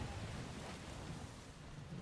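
Water splashing in the racing game Forza Horizon, a dense, hissing wash of spray that stays loud and steady throughout, with no voices.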